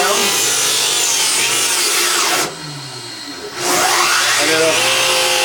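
A table saw run by a VFD cuts maple and bogs down: a steady whining blade and cutting noise that briefly drops away as the motor slows, then returns with rising pitch as it spins back up.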